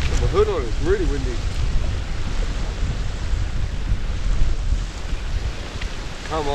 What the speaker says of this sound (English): Hood on, it's really windy.